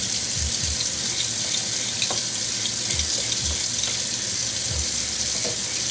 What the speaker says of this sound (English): I run them under cold water and I peel them quickly.